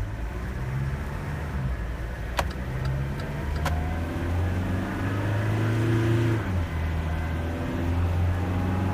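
A Mitsubishi Canter 3-ton truck pulls away and accelerates, its engine a steady low drone that rises gradually, with a couple of brief clicks early on and continuous road and cabin noise throughout.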